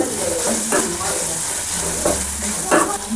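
Onions with ginger garlic paste sizzle and fry in a pan, with several distinct scraping stirs of a spoon cutting through a steady close frying hiss.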